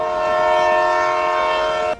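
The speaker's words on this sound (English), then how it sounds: "The MPS productivity train is leaving the station!" A train horn sounds in one long, loud, sustained blast with steady harmonic tones, standing alone before stopping abruptly.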